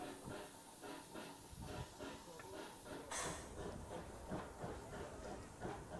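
A steam locomotive hisses steadily at Froghall Station on the Churnet Valley Railway, with a faint rhythmic clatter beneath and a sharper burst of steam partway through, heard from a short distance.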